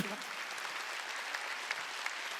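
A church congregation claps in a brief burst of steady, dense applause during a sermon.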